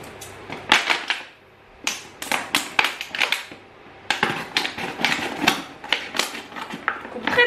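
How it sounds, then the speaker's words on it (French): Scissors snip close by in quick irregular bursts of short crisp cuts, separated by brief pauses, used on a plastic bottle in a home sewing and crafts setting, with no talk over them. "Coupe très bien ces ciseaux"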